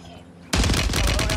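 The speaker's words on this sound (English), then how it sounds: "I hear gunshots. I feel gunshots." Gunfire in the video game Warzone breaks out suddenly as a loud, rapid, continuous fusillade of shots that fills the rest of the short moment.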